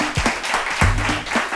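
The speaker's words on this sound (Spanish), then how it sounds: "Aplaudan esto, por favor" Studio audience applauding on a Spanish TV variety show, a short burst of clapping that swells, dips, and swells again over a low hum of background noise.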